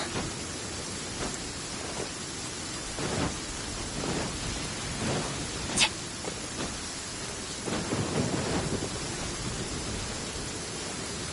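Steady rain falls in Genshin Impact, with soft rumbles of thunder and one sharp crack partway through, no voices over it.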